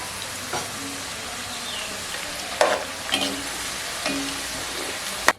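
Potato chips fry in hot oil for homemade Lay's-style crisps, a steady close crackling sizzle with a few sharper pops and stirring scrapes, no voices.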